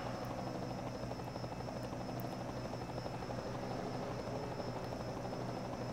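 A helicopter's steady, dense rotor and engine drone fills a racing video game broadcast, constant and loud throughout with no talk.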